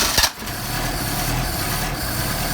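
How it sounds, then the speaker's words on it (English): A Mercedes 190SL with Solex 44PHH carburetors cold-starts with a short cranking burst, then settles into a steady, rough idle close to the microphone. "what I'm doing, of course, is a cold start for you"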